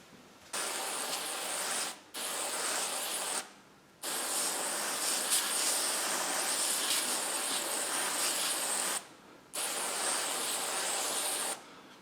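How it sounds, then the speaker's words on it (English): A hand sprayer hisses water onto the edges of a worm-composting tote in several bursts separated by brief pauses, one burst lasting several seconds, close and fairly loud with no talking. "take a sprayer and just spray down these outer edges just a little bit"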